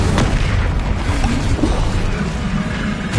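An Incendio spell blast in Hogwarts Legacy: a dense, roaring fiery burst with heavy low rumble that fills the whole moment loudly and continuously, with no speech over it.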